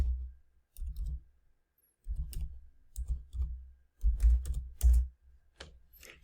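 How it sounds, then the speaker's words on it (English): Typing on a computer keyboard while looking up a diagnosis code, heard as several short bursts of clustered key clicks separated by pauses, close and moderately quiet, with no talking. "I'm going to type in hypertension."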